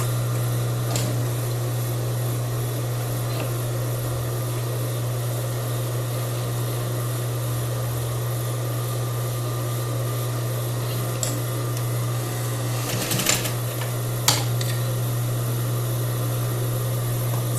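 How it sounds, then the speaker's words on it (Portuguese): A sewing machine stitches around the neckline of a crepe bubble blouse, securing the seam allowance toward the facing; the motor gives a steady, even hum throughout, with a couple of brief clicks near the end. "a gente vai fazer essa fixação agora aqui na máquina de costura"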